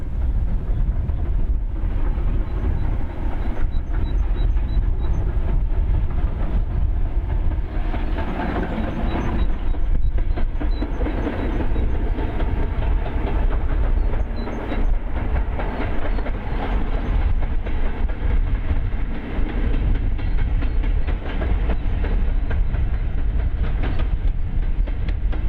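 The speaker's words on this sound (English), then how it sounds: "it was necessary for our train to go to Ramsbottom, run round and return to Bury for water" Lanky Tank steam train running toward Ramsbottom, a continuous rolling rumble with clickety-clack of wheels over rail joints, heard steadily and fairly close for the whole stretch.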